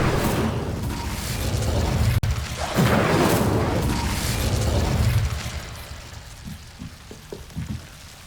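In Hogwarts Legacy, the Incendio fire spell is cast with a loud, roaring fiery whoosh and burst that swells, dips and surges again before fading into a few small scattered clicks and pops.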